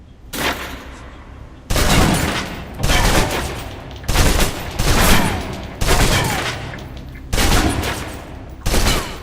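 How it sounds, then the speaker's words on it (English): A submachine gun in the video game Alpha Protocol empties its magazine in several loud, sustained bursts of rapid automatic fire, each lasting about a second and separated by short pauses. "Now, let's move on to the submachine gun. Now let's empty the clip."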